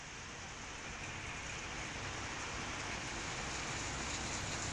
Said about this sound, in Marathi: अंधारून आल्यानंतर जोरदार पावसाला सुरुवात झाली.